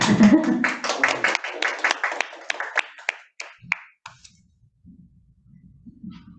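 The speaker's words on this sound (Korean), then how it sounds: "김성재 선교사님 나오실 때 큰 박수로 환영해 주시면 감사하겠습니다" Church congregation at a Sunday service applauding to welcome missionary Kim Sung-jae, loud clapping from many hands that thins into scattered last claps and dies out, followed by faint low murmuring.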